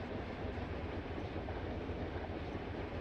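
Train rolling along in the Run8 V2 railroad simulator game, a steady low rumble with faint clickety-clack of the wheels, continuous and even with no voices.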